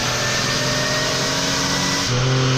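A 200,000-mile Pontiac Grand Prix GTP engine revs hard through a second-gear dyno pull, a loud, steady rising drone. Its pitch climbs, then steps down near the end as the load changes.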